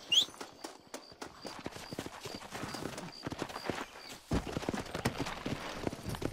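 Rhythmic clip-clop of horse hooves in the video game Red Dead Redemption, a steady gallop heard up close, with game ambience and brief sharp effects around it.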